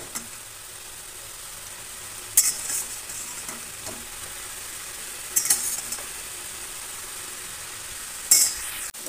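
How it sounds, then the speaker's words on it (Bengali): Fish pieces go one by one into a boiling Bengali fish curry, with three spaced bursts of splashing sizzle over a quiet, steady bubbling hiss, close by and without talking. "এবার আমি মাছগুলো এতে ছেড়ে দেবো একটা একটা করে"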